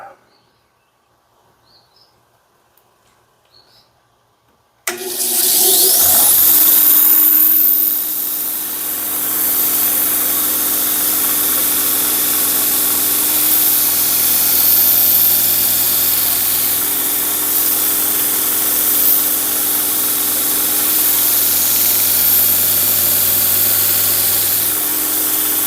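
A belt grinder fitted with a 1200 grit belt sharpens a hewing hatchet, starting abruptly after near silence and then whirring loud and steady with a high grinding hiss for about twenty seconds.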